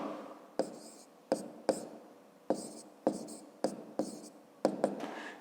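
Numbers hand-written for a fifth-grade math exercise, a series of short pen or chalk scratching strokes, each starting with a sharp tap and fading, repeated about eight times up close with no talking.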